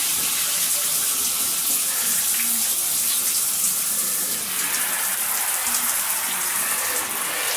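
Water runs steadily from a hotel bathroom tap for washing clothes by hand, a continuous close splashing gush that fills the whole stretch and shifts slightly partway through, with no talk over it.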